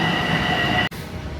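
A New York subway train runs through an underground station, a loud steady metallic rumble with a high ringing whine from the wheels and a brief sharp dropout near the end.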